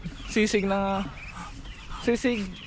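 Backyard chickens cluck in short, tonal bursts close by, a few clustered calls with a pause between groups, over a soft outdoor background.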